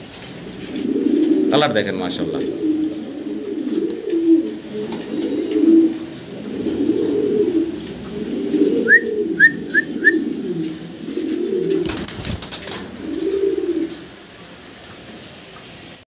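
A pair of same-colored pigeons coo repeatedly in low, rhythmic bursts close by, with a few quick high whistles and a sharp rustling burst near the end, while someone talks at times.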